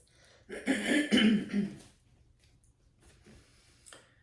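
A person clears their throat once, a rough, gravelly rasp lasting over a second, close up, followed by quieter shuffling.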